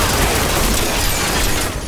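Dense, continuous gunfire from a war drama set at a Korean high school, a steady broadband roar of rapid shots with no gaps, loud throughout.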